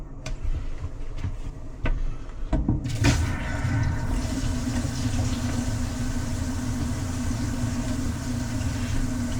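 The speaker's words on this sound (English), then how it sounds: "Let's go turn some water on." Water rushes into a CPVC plumbing line after the supply valve is opened, a steady loud hiss and rumble that starts abruptly and continues without pause.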